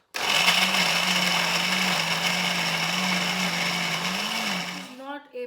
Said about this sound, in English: Now my all chickpeas are going in blender.